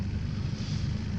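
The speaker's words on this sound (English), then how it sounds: "Sorry about the motor noise." Outboard motor on a jon boat fishing in the Florida Everglades, a steady close low drone with wind buffeting the microphone, continuous and alone.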